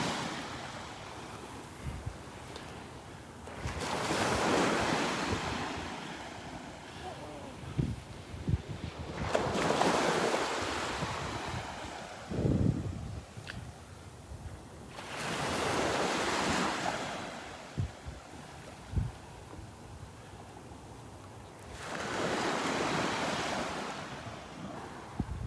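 Surf at Delnor-Wiggins beach rolls in as four broad, loud wave washes spaced several seconds apart, with wind buffeting the microphone between them on a foggy morning shoreline.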